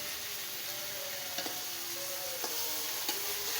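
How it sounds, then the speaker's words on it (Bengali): Onion spice paste and tomatoes frying in a pan, a steady close sizzle with occasional light knocks and scrapes of stirring, no voices. "পেঁয়াজের মশলা টমেটো সব দিয়ে দিচ্ছি"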